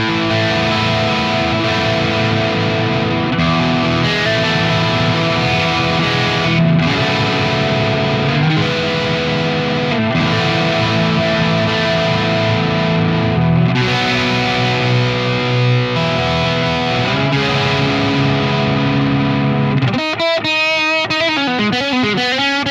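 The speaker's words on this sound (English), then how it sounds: "So here's what it sounds like with just the neck pickup." Schroeder Marksman '87 electric guitar on its neck pickup through a distorted amp, playing a loud, sustained stream of thick, overdriven chords and riffs with occasional brief breaks, ending on a wobbling, effect-laden swell.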